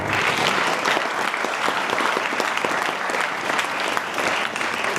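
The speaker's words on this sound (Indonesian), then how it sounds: "Tepuk tangan dulu dong." A crowd at a religious lecture gives a burst of steady, lively applause, many hands clapping together at an even loudness for several seconds.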